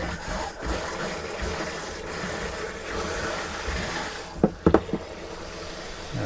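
Water spraying from a motorhome shower, a steady close hiss and splash with a few sharp knocks near the end.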